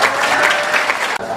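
An audience claps for the speakers at a debate event, a dense burst of applause from many hands that cuts off abruptly near the end.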